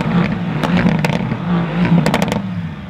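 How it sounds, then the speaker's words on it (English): Loud, continuous exhaust roar from a 2018 Mercedes-AMG GT C Roadster, a deep rumbling drone with sharp crackles and pops bursting through near the middle and end, recorded close and alone. "I think AMGs are officially my favorite exhaust sound out of any manufacturer."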